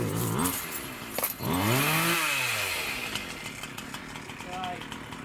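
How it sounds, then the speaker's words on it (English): A chainsaw cutting down a tree revs up and down in rising and falling whines nearby, with a brief knock partway through. "He's got his chainsaw. We're going to chop that tree down there."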